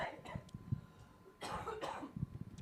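A person coughs a few times in quick, muffled bursts, close by and fairly quiet.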